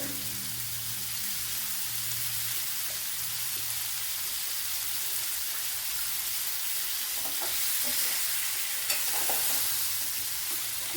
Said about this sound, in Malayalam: ഒരു 5-10 മിനിറ്റ് വെച്ച് ഇതൊന്ന് വഴറ്റിയെടുക്കണം.